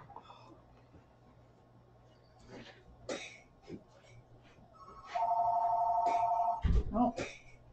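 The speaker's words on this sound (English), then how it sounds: "Oh, phone's ringing." A telephone gives one sustained electronic ring that lasts over a second partway through. Scattered coughs, throat clearing and small handling noises come before and after it.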